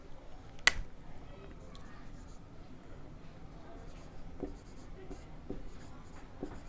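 Writing on a board during a geography lecture on the earth's internal structure, a sharp tap at the start followed by soft scratchy strokes, quiet, with faint low voice in the background.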